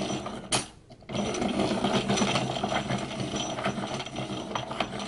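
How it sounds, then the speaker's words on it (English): A Dahle 133 pencil sharpener grinds a pencil with a steady mechanical ratcheting whir, close and fairly quiet, pausing briefly near the start before running continuously. "And we could hear it grinding."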